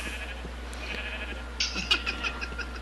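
Minecraft sheep bleating as it burns in the video game, a couple of short, fairly faint bleats over a low steady hum, the last one slightly louder.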